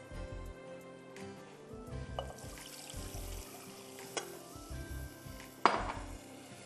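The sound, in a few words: pouring milk into white sauce mixture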